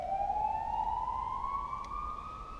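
An emergency vehicle siren passing outside near a car engine bay, a steady rising wail, moderately distant and faint against background hum.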